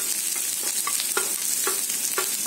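Ginger, garlic, onion and spices roasting in a pan, a soft steady sizzle with repeated scraping stirs of a spoon at a regular pace, close up and without talk.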